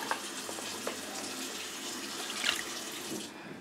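Water runs from a kitchen tap in a steady, fairly quiet stream while cooking a Creole gumbo, with a few light clinks and splashes before the flow stops near the end.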